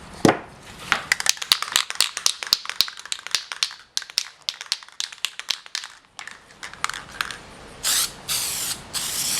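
Short hissing bursts from an aerosol can of polyurethane finish sprayed onto wood veneer, quick repeated pulses, then longer continuous sprays near the end.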